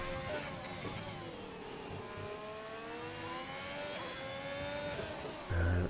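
A race car engine in an F1 racing video game on the Singapore Grand Prix track during qualifying, a steady whining drone with smoothly rising and falling pitch through gear changes, loud and alone, with a sudden louder burst at the end.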